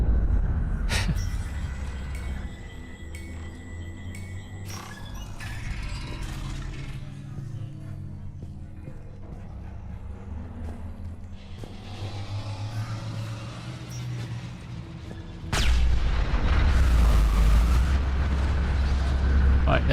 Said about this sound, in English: I think it's the sound of the main gun battery operating.